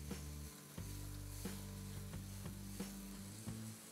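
Onion, tomato and mushroom masala sizzles steadily in a pan for a kaalan melagu masala, with a constant close frying hiss broken by periodic sharp scrapes of a spoon stirring.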